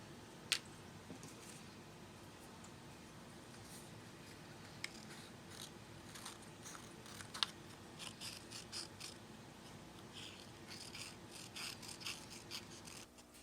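Faint, close scissors snipping paper pumpkin pieces for a paper-piecing craft, a quiet run of small rasping cuts with a few sharper clicks over a soft background hum, no voices.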